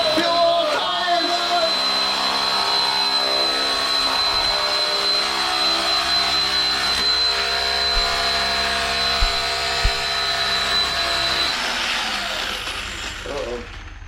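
A Traxxas Raptor-style Slash RC truck does a smoking tire burnout, its electric motor and spinning tires whining loudly and steadily for over ten seconds, close to the microphone, before the sound fades near the end.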